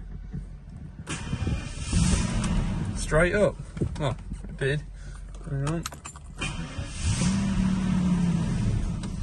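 A 1988 Jaguar XJS HE automatic with its V12 engine cranks, starts from cold and settles into a steady, rising idle, close by, with keys jangling and a few brief spoken remarks over it.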